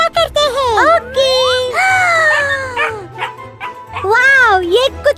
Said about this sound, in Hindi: वाओ, ये कुत्ता है।